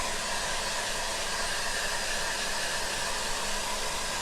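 A hair dryer blows hot air over freshly painted furniture during an ombre chalk-paint job with Dixie Belle paint, a steady, close, unbroken hissing roar with no talk.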